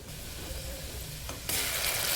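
Garlic cloves, a bay leaf and curry leaves sizzle in hot oil in a pan, a steady close crackling hiss that turns suddenly louder and brighter partway through.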